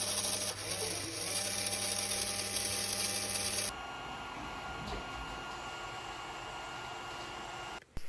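Two small continuous-rotation servo motors in a Strandbeest robot test circuit whirring, a high buzzing whine for a few seconds that then shifts to a quieter, lower hum, with a brief click near the end.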